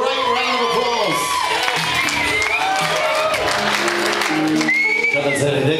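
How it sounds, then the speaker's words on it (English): Wedding guests clapping and cheering around the dance floor before a couple's first dance: a loud, dense crowd din with whoops and shouts, and voices talking and calling out throughout. "Ladies and gentlemen, give a great round of applause."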